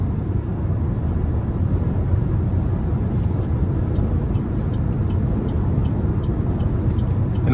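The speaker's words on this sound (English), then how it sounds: "wind noise is a bit prevalent in here" Steady broadband wind and road rush fills the cabin of a 2026 Buick Envista Sport Touring 1.2T at cruising speed, a constant loud low roar with no talking.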